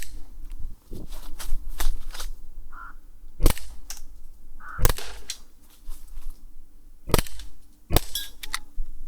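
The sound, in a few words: Umarex Glock 17 air pistol being fired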